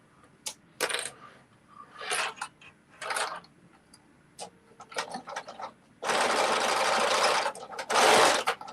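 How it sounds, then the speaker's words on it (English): Sewing machine stitching a stretched knit sock, short bursts of clicking and handling taps followed by a loud sustained run of stitching near the end. "so I'm just stretching it as I sew it"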